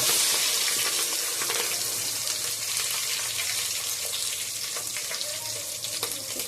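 Carrots sauté in a pan with cumin, dried red chillies, green chillies and onions, giving a steady, loud sizzle with faint stirring scrapes and no voices.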